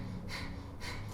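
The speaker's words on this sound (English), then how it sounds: "we can bring in our Kapalabhati breathing" Two forceful Kapalabhati yogic exhalations, sharp breathy bursts about half a second apart, close to the mic and alone.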